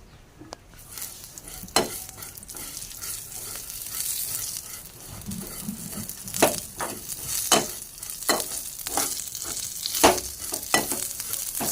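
Ingredients sizzle in hot ghee in a pan for vermicelli payasam, a steady frying hiss broken by repeated scraping and clinks of a spoon stirring against the metal, close and alone.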